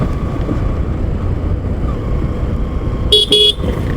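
Traffic on a busy, crowded street in a densely populated area, with a steady engine and road rumble throughout and a short double honk of a vehicle horn near the end.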